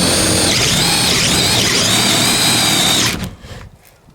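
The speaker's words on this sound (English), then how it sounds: "Every time it grabs, it stops the drill." A compact 18/20 volt Makita or Dewalt cordless drill whines loudly under mild downward pressure, its motor pitch wavering as the bit grabs, then cutting off abruptly when the drill stalls and stops.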